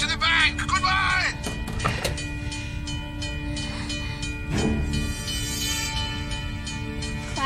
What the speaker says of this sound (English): Right, yes, I can't hear because of the train.